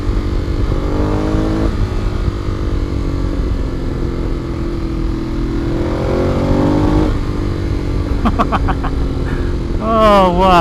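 A 2014 Ducati Monster 821 engine pulls hard through the gears on a test ride, its snarling exhaust note rising and falling in repeated surges under steady wind rush, with a rider's voice breaking in near the end.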